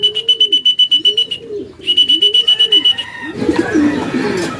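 Racing pigeons coo at their loft after landing, a close, loud run of rhythmic rising-falling coos with a shrill repeated tone above, then a brief burst of flutter and rustle.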